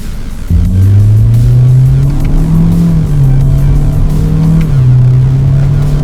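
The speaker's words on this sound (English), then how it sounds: "you can definitely hear more engine tone for sure" A car engine kicks in and holds a loud, deep exhaust drone with small rises and dips in pitch, heard up close.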